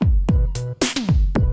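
Drum machine hits from a Yamaha Motif ES synthesizer: punchy kicks with bright snare or clap strikes and a synth tone, a short, loud, rhythmic pattern.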